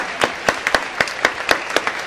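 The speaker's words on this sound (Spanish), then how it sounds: "la recibimos con un fuerte aplauso" Rhythmic clapping from a small group, sharp claps landing about every quarter second in a steady beat, fairly close and alone without talk.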